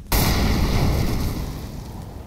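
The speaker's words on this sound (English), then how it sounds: "Flashbang." A flashbang grenade in Counter-Strike: Global Offensive goes off with a sudden loud, close bang, then a sustained ringing wash of noise that slowly fades, with no talking over it.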